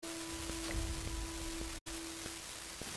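Steady hiss of rain in a video game, a continuous even wash with a faint tonal hum and a brief cut-out, with no talk.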